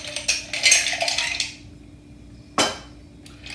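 Ice tumbles into a cocktail mixing glass in a burst of clinking and rattling, close up, fading over about a second, followed later by a single sharp clink against the glass.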